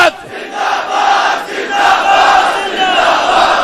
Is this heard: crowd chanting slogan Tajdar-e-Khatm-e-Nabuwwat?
yes